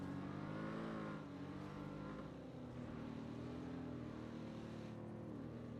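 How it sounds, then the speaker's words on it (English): A car engine in PUBG droning steadily while driving off-road, a continuous rough mid-pitched hum that wavers slightly in pitch, fairly quiet and unbroken throughout. "Worst cars to drive off-road, though."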